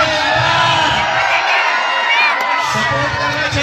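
Spectators at an all-India kabaddi tournament cheer and whoop for the Chandrapur team in a loud, close crowd roar that dips briefly midway before swelling again.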